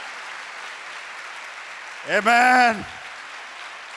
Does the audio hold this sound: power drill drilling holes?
no